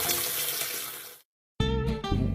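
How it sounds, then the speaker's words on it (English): Cold water from a kitchen tap pours onto drained vegetables in a pan, a steady broadband splashing rush that breaks off for a moment and then resumes just as loud, with no talk. "Put them back in the pan and start running cold water on them"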